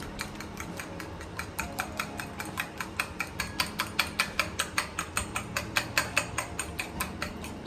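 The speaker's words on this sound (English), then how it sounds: "And just whisk them real quick." Eggs being whisked in a bowl for a crumbed fish batter, fast rhythmic clicking taps of the whisk against the bowl, steady and close, with no talking.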